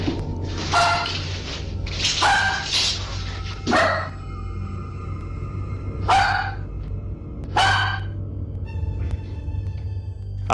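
An agitated dog barks in a house with creaking old wooden stairs, about six loud, sharp barks or short bark bursts spaced a second or two apart over a low steady hum.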